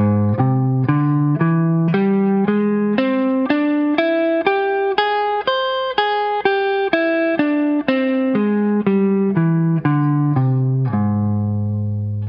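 An electric guitar plays a pentatonic lick with the root moved down to the major seventh, a clean run of single notes rising and then falling, ending on a held low note, with no talking.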